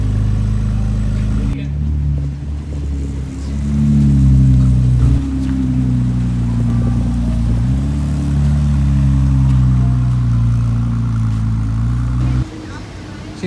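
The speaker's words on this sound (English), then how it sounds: "You can hear that V6 burbling." A Ferrari 296 GTB with a V6 and a centre exhaust burbles loud and close, its low rumble rising and falling through gentle revs with a few brief lulls, and voices talk over it.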